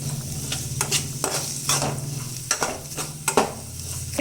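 Onions fry in a pan with chillies. A close sizzle runs underneath while a spatula scrapes and stirs in repeated sharp strokes, with a low hum continuing throughout and no speech.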